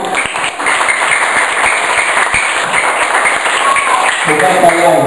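A group of schoolchildren claps at school in a loud, dense, continuous burst of applause, with voices talking over it throughout.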